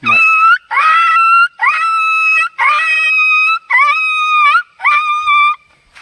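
A person imitates a dog with six loud, close, drawn-out howling yelps in a steady series, each separated by a short pause.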